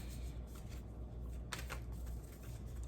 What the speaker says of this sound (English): Let me shuffle the card real quick